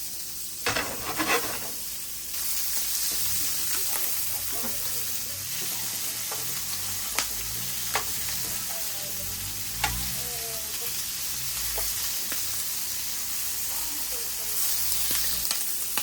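Jumbo shrimp fry in a pan of hot oil, giving a continuous close sizzle with scattered pops and crackles, plus occasional clicks of a utensil against the pan.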